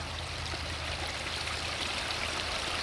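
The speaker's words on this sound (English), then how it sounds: "my water drops, it just keeps on dropping" Water dropping from a height into a pool, a steady close splashing, rushing flow with constant broadband hiss and no pauses or voices.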